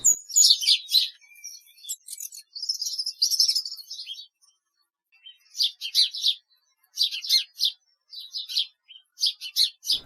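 Sparrow fledglings chirp in rapid high-pitched bursts, clustered calls with short pauses between, fairly close and without talk.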